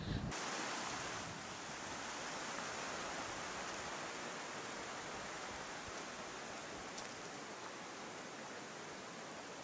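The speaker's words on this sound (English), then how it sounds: "So you can probably hear it's pretty windy up here" Steady, rushing wind buffets the microphone in a broad, constant roar high on a mountain glacier hike, fairly faint overall, with no voices.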